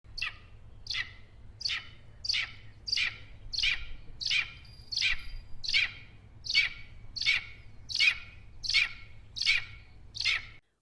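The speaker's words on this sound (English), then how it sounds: "The next sound you'll hear is the bird sound I got." Bird song outdoors: a string of about a dozen short, evenly spaced chirping phrases repeating roughly every second, clear and fairly close over a low steady background hum.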